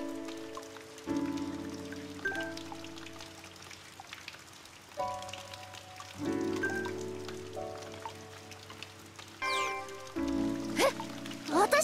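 Rain falls steadily in the video game Blue Reflection: Second Light, a soft patter running underneath voices that talk over it in bursts.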